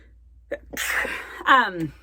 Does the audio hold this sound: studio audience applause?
no